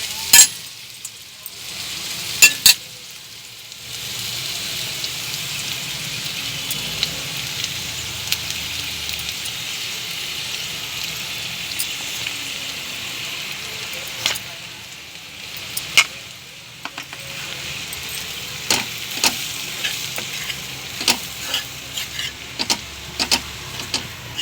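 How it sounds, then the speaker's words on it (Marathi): Besan (gram flour) sits in hot oil with red chilli powder for a capsicum dish, giving a soft crackling sizzle. Sharp scraping clicks of stirring come and go, fairly quiet and close. "आता 2 मिनिटं आपण बेसन पीठ छान भाजून घेऊ।"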